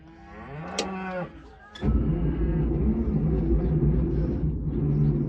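A cow on a farm gives a single drawn-out moo up close, followed by the steady low rumble of an idling John Deere 55 combine engine that continues to the end.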